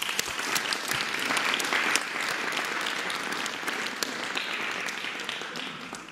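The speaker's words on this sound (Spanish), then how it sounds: "un aplauso para las maestras y los maestros" A crowd at a presidential morning press conference in Mexico applauds the teachers, producing a broad, sustained roar of clapping that stays loud and even for about six seconds.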